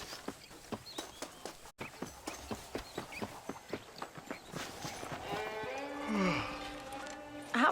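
Horse hooves clip-clop at a steady trotting rhythm in the Red Dead Redemption western video game, close and distinct, with tonal game music swelling in toward the end.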